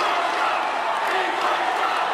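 A crowd of delegates at a political convention reacting, a loud, sustained mass of voices shouting and cheering together with no break.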